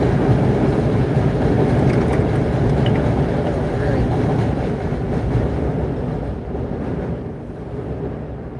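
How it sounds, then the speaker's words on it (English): A loud, continuous rumble of a train rolling close by, steady and heavy, easing slightly toward the end. "Train is always making noise."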